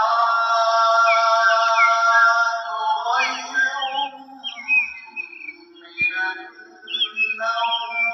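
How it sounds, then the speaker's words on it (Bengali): Birds calling at dawn in a village, clear whistled notes and chirps, first a sustained bright trill and then scattered short tweets, close and alone. "ভোরের পাখিরা কিচিরমিচির করছে।"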